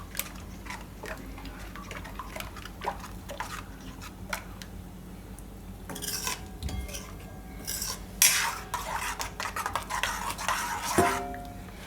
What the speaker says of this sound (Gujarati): તો દહીં નાખીને આપણે થોડીક વાર હલાવતું રહેવાનું આ રીતે.